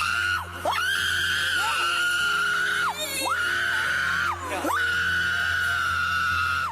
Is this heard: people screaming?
yes